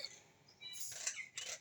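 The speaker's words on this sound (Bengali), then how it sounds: "ওই যে শালিক ডাকছে" Common myna calling outdoors, a few bright chirping calls rising in two short bursts, fairly faint and alone with no talk.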